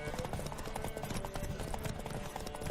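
Rapid rhythmic hoofbeats of a galloping horse in the video game The Witcher 3, steady and close, with a busy background hum.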